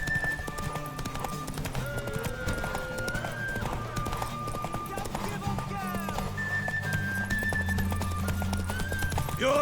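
Hooves clip-clopping from a horse in The Witcher 3: Wild Hunt, a steady rhythmic trot heard under game music and character dialogue throughout.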